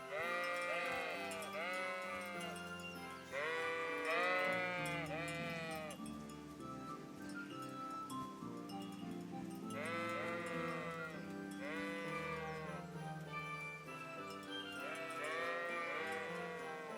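Sheep bleating in the video game Kingdom Come: Deliverance, a flock of several animals calling in repeated wavering bleats, some overlapping, clear and fairly close over a quiet ambient background.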